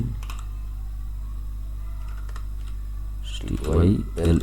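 Keys clatter on a computer keyboard as code is typed in a Windows note editor, a steady run of light clicks with a louder burst near the end, under soft background hum and a speaking voice.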